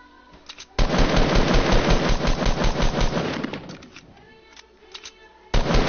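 Video-game gunfire shooting down a player's build: dense rapid bursts of automatic shots, loud and close, stopping briefly before a final burst.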